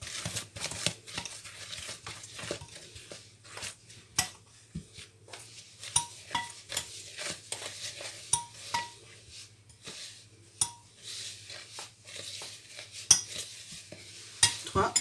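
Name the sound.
mixing coconut cake batter with a utensil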